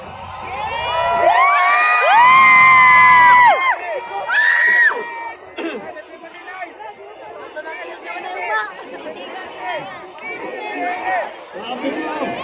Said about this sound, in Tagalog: Pagpasok ko rito, mas lalo pang lumakas ang sigaw.